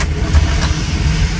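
A work truck's engine idles close by, a low, uneven rumble that holds steady for a moment without any clear revving.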